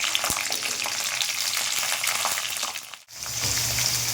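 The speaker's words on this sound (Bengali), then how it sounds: "আগে প্রথমে ক্যাপসিকামটা আমি একটু হালকা আঁচে ভেজে নেব" Capsicum frying in a pan over low heat, a steady close hiss of sizzling oil with small crackles, broken by a brief drop to near silence before the sizzle returns.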